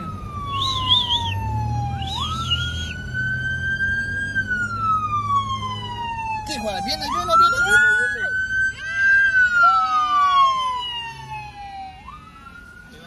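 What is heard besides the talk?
ambulance siren approaching in traffic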